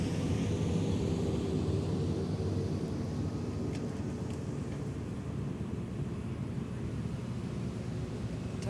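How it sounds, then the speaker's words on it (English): A WestJet airliner arriving from Saskatoon touches down at Minneapolis–St. Paul airport. A steady, loud jet roar and broad rumble holds throughout at close range, easing slightly over time, with no voices. "Touching down from Saskatoon. That's very tower. WestJet Flight 1900."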